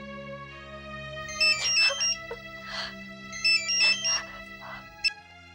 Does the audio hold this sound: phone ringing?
yes